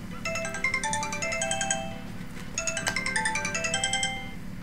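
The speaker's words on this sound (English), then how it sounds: "Your phone went off." A mobile phone rings with an incoming call, its electronic melody of bright stacked tones repeating in two bursts with a short gap between, loud and close over a low background hum, no talking.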